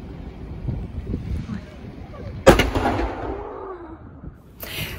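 A cannon fires on Hare Island (Zayachy Island), a single sharp, loud boom echoing and rolling away amid wind noise, with people talking before and after.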